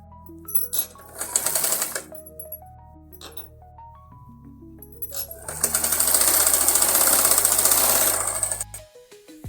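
Sewing machine running double stitching along a shoulder seam, several short bursts of whirring stitches with pauses, then a longer sustained run before stopping, close and fairly loud.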